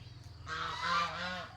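A guard goose kept at a house honks loudly and close by, a few harsh, nasal calls run together over a low background hum.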